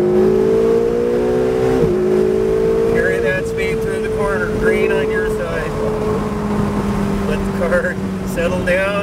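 Ferrari 488 on the Pacific Raceways track in Kent, WA, accelerating through a corner, its engine note rising steadily and loud, with an instructor's voice talking over it throughout.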